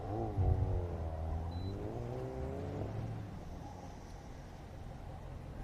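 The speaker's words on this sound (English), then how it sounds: "And Dylan in that E Street Miata into the last slalom, last right turn into the finish line." Mazda Miata in E Street trim powering through an autocross slalom at a fairground course, engine note rising and falling with each turn and holding steady near the finish, moderately close with no talk.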